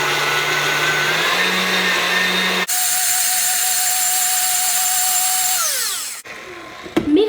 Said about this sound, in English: we are just going to whip this until it is stiff peaks. Make sure to mix this on medium-high